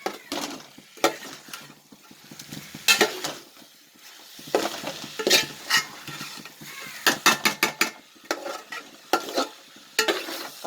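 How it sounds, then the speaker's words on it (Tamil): Mutton pieces being sautéed with masala for cumin samba biryani, with a spoon scraping and stirring the pan in repeated bursts over a soft, steady sizzle. "அளந்து ஊற்றும் போது கறி நல்லா இந்த மசாலாவோட சேர்த்து நல்லா வதக்கி விட்டுடலாம்."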